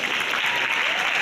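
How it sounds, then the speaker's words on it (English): Audience applause at the close of a university public lecture on democratic deconsolidation, a brief, steady burst of dense clapping from a full room. "So we give applause once again to Roberto."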